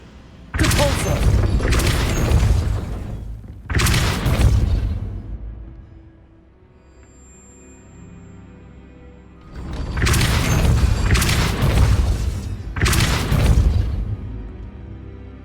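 Heavy booming blasts from the Depulso spell in a Harry Potter video game come in bursts, several quick thumps in a row, then a quiet gap before another loud cluster, with no talking.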